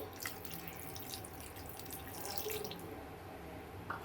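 Water runs steadily from a tap into a pan holding a cup of jaggery, a continuous splashing trickle with a few small drips near the end.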